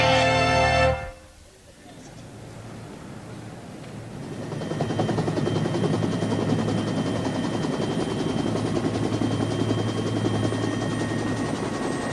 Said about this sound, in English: That's a rather tasty-looking chopper.